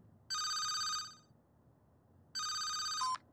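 A cartoon telephone in The Looney Tunes Show rings in two bright electronic bursts separated by a pause, loud and clear with nothing else heard.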